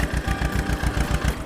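A tractor engine runs steadily in a village setting, a close, loud, continuous mechanical chugging with a rapid regular beat and no talk over it.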